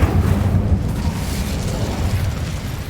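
An Incendio fire spell cast in Hogwarts Legacy gives a loud, sustained whooshing roar of flame with a deep rumbling body. It holds steady for about three seconds, with no talk over it.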